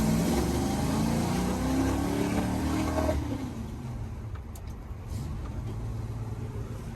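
A Ford Mustang Foxbody engine pulls in second gear, a loud, steady roar with road rumble that drops to a quieter, lower drone about halfway through.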